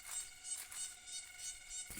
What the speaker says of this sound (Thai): แมงจักจั่นหลายอยู่